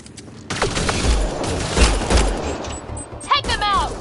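Gunfire in a video game: a dense, loud fusillade of shots and heavy thumps rolls on for several seconds, with shouting voices cutting through near the end.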